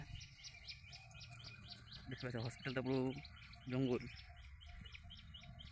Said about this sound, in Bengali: কি সুন্দর পাখির ডাক, সে আওয়াজটা শুনতে পাচ্ছেন?